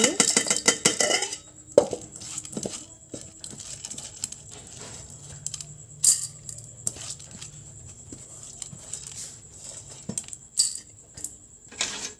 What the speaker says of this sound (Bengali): এবার আমি চালটা হাঁড়ির মধ্যে দিয়ে দিচ্ছি।